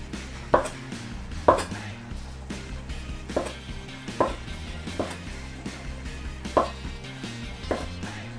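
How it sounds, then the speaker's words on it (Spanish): A knife cuts a rolled rope of homemade potato gnocchi dough on a board in steady, evenly spaced thuds, about one per second, each a crisp close tap. A faint hum sits underneath and nobody talks. "con el cuchillo vamos a picar"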